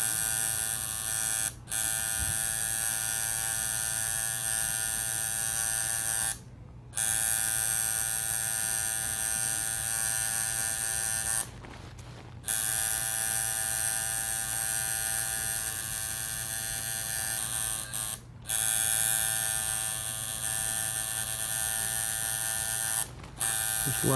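A tattoo outliner machine buzzes steadily and close, a continuous electric hum with strong harmonics, cutting out briefly about four times as the needle lifts while texturing a portrait.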